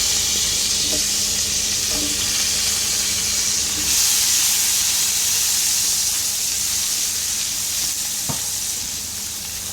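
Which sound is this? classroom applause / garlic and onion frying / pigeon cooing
garlic and onion frying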